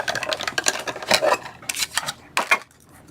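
Cardstock paper for a handmade card is trimmed with a cutter, giving close, uneven scraping and snipping bursts with a few sharp rasps, fairly loud and without speech.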